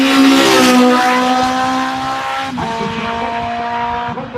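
A rally car at the Trélivan rally sweeps through a corner, its engine loud and close with rising and falling revs, then shifting pitch as it passes and pulls away, with no talk over it.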